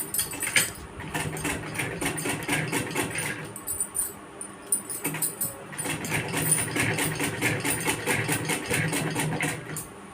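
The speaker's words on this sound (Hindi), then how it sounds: "फिर आप यहाँ से फिर सिलाई चालू कर दीजिए।" A sewing machine stitches a denim mobile cover in rapid rhythmic bursts of needle clatter, pausing briefly before running again, close up and alone without speech.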